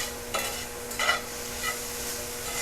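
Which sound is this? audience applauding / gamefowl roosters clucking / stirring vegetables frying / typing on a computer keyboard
stirring vegetables frying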